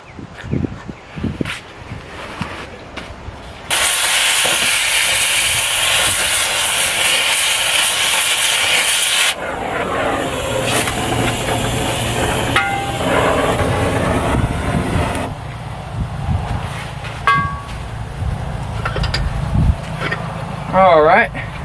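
Cutting bolts off a cabover dump bed during removal: a loud, sustained hissing cut runs for several seconds, followed by grinding, clanks and scraping metal at closer range, with talk mixed in.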